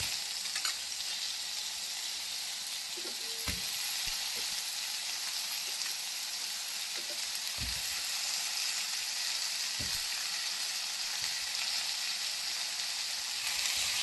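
Mango pieces sautéing with onion and tomato in a pan give a steady, close sizzle and crackle throughout, with a few faint scraping stirs.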